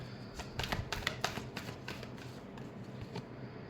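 Tarot cards are shuffled close up in a quick, soft flurry of papery riffles and taps, quiet and crisp, tapering off toward the end.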